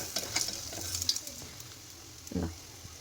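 Sarva pindi, a Telangana rice flour flatbread, sizzles gently in oil in a pan, with soft crackling and a few brief scrapes, quiet and close with no voices.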